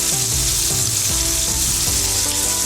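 Steak sears loudly in a hot pan, a dense continuous sizzle with crackling spits, close and steady throughout with no talk.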